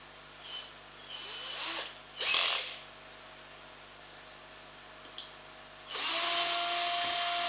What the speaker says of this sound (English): So just need to run a thin drill through that.